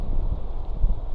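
Wind buffets the microphone of a cyclist riding on a sunny, gusty day, producing a low, rumbling roar that pulses briefly with no other sounds.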